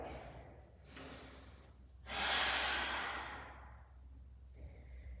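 Slow, deep breathing during a yoga class in downward facing dog: a soft inhale, then a longer, louder airy exhale, followed by a quieter breath, close and calm.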